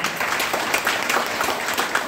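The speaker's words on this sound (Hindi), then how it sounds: "पांडे जी के जोरदार ताली बजा दीजिए" Audience applause for Pandey ji at an indoor DXN gathering, a steady wash of many hands clapping together, fairly loud and even throughout without a break.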